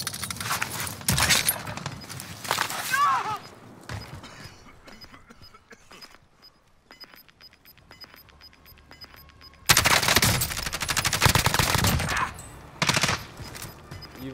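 Bursts of automatic gunfire from a video game shooter, loud rapid volleys near the start and again near the end, with a quieter stretch of scattered game sounds between.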